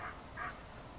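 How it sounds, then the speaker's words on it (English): A dog, one of a group at a Tango vom Mekey obedience session, gives two short barks or yips, faint and somewhat distant over steady outdoor background noise. "there is a couple that like to bark"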